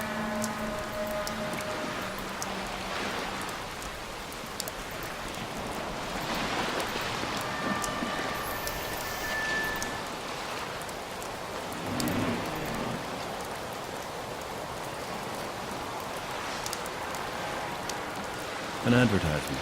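Heavy rain falls in a video game, a dense, steady hiss of downpour that continues throughout with little change, with faint talk in the background.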